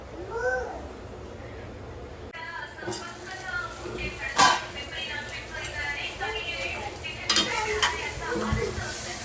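Stuffed brinjal masala sizzles softly in oil in a pan while a spoon stirs and clinks against the metal, with someone talking over the cooking.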